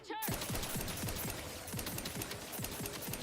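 A video game player's strongest weapon fires in a fast, even stream of shots. The rhythmic rattling bursts run steadily for a few seconds at moderate loudness.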